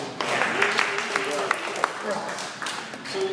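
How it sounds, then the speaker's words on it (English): A room of community coaches applauds, giving a steady dense patter of clapping throughout with a few sharper individual claps, while a voice speaks over it. "Give yourself a round of applause."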